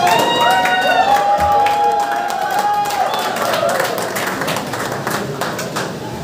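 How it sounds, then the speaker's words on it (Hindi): A crowd at an outdoor meet-up of YouTubers claps and cheers in a loud, continuous burst, with scattered shouts and a whistle-like tone early on, slowly easing over several seconds. "जोरदार तालियों से उनका स्वागत करें।"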